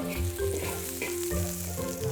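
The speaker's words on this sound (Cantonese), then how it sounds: "蒜蓉同薑絲爆香" Minced garlic and ginger shreds hit hot oil in a wok in a Cantonese Chaoshan-style kitchen, giving a loud, bright crackling sizzle with stir-fry clatter across the short stretch.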